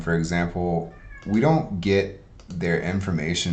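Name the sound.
cat meowing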